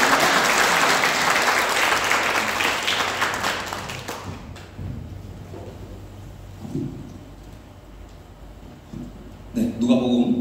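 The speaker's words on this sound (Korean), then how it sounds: "우리 큰 박수로 축복을 받겠습니다." Church congregation at a Sunday worship service in Bali claps loudly in blessing, a dense burst that fades after about four seconds into quiet room noise with scattered small sounds and a brief voice near the end.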